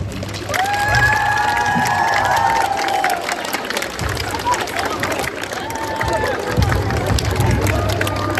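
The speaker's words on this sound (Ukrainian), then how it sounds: "Бурхливі оплески для наших першокласників." Steady applause mixed with cheering and crowd hubbub from an outdoor school ceremony for first-graders on the first day of the school year at a Kyiv lyceum, loud and continuous throughout, with whistle-like tones and voices in the mix.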